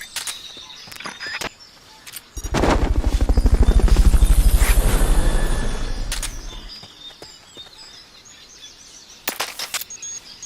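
A helicopter's rotor thumps in Metal Gear Solid: Peace Walker swell in loudly for a few seconds during a Fulton recovery, then fade away, framed by short clicks and faint chirping sounds.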